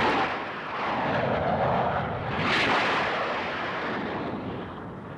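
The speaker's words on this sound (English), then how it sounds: "NATO jets are airborne." NATO military jet aircraft taking off on an exercise with the Southern European Task Force: a loud, continuous broadband jet roar that swells to a peak midway and then slowly fades, with no talking.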